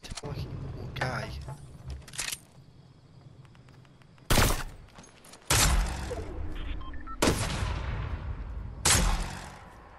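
The new gun in Fortnite fires as several sharp, loud bursts spaced a second or two apart, each a short crack over quieter game background.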